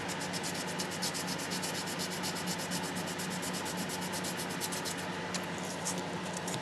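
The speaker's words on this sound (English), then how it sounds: "I'm just going to come in there with the sandpaper and just clean it up as well." Sandpaper rubbing back and forth along a model railway rail, a soft, steady scratchy rasp with quick regular strokes, close and fairly quiet, no voices.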